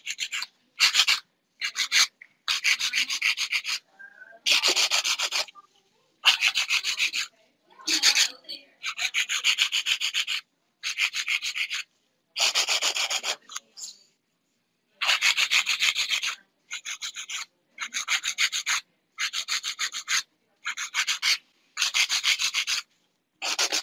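Nail file rasping against acrylic powder-marbled nails while refining the shape, a steady series of short back-and-forth filing strokes with brief pauses between them, close and moderately loud with no talking.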